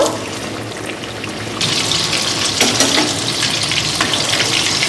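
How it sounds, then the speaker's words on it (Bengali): Pieces of KFC-style chicken fry in hot white oil in a pan, giving a steady loud sizzle that grows fuller and more crackling after a couple of seconds. "তেল গরম হয়ে গেছে। এবার আমরা কেএফসি চিকেনগুলোকে এর মধ্যে ছেড়ে দেব।"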